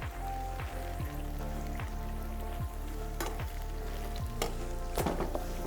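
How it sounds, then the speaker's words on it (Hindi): Orange chicken pieces frying in Dalda cooking oil, a steady close crackling sizzle with scattered pops and spatters, no talking. "एक तरफ हमारी चिकन डालडा कुकिंग ऑयल के अंदर फ्राई हो रही है।"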